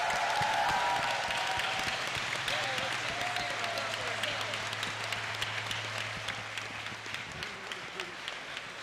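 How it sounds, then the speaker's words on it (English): A convention crowd at BronyCon 2012 gives the musicians a sustained round of applause, dense and steady. The clapping slowly fades over several seconds while a voice talks faintly on top. "So I think a real round of applause for the musicians in the community."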